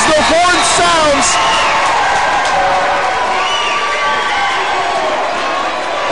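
High school boys' basketball crowd cheering as the Sailors win against Moffat County at the final horn, loud sustained roars and whoops in a gym with an announcer talking over the noise.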